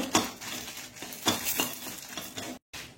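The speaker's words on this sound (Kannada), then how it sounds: "ಇದರಲ್ಲಿ ಸುರಿಗೆ ಮೆಣಸನ್ನು ಹುರಿದುಕೊಳ್ಳೋಣ" Chillies roasting in a pan with a little oil, heard as scattered clinks and scrapes of a spoon stirring against the metal over a low sizzle, with a brief dropout near the end.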